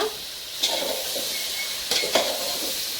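Natti mushroom curry stirred in a frying pan: a low steady sizzle with a few scraping spoon strokes and light metallic clinks against the pan.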